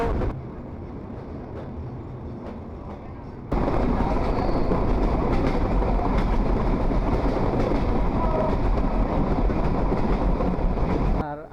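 Passenger train pulling out of Kalukhali railway station in Bangladesh, a loud, steady rumble of wheels and carriages that swells abruptly after a quieter start and keeps rolling continuously.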